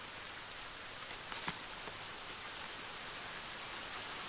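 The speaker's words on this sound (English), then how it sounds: "It's raining again." Rain pours in the survival game The Forest, a steady broadband hiss of drops with occasional sharper patters, faint and unbroken, with no one talking.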